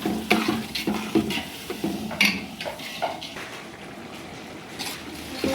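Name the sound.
potato curry stirred by hand after adding water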